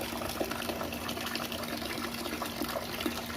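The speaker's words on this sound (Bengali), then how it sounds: "ছোটো বালতি করেই জল দিচ্ছি" Water pours from a small bucket onto garden plants, a steady close gushing splash that runs without a break with no talking.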